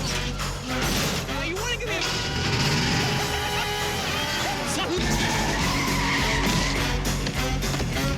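In a movie scene from Ace Ventura 2, a car is wrecked with screeching tire skids, mechanical clatter and a jolting crash. The noise is loud and busy throughout, with a voice talking over it.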